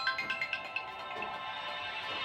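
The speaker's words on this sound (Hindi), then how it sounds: "ये तो फोन आ रहा है, 1 सेकेंड।" An incoming call's ringtone plays during an online physics lesson, a faint melodic run of repeated electronic tones at the start that fades into a steady hum, with no talking.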